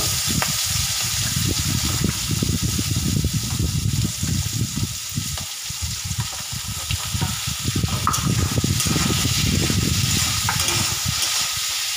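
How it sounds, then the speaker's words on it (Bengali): Chiti crab frying in a pan, a steady, close hiss and crackle of sizzling oil that runs continuously with occasional stirring and scraping, no voices. "তো দেখো একটু প্রথমে ভেজে নেব।"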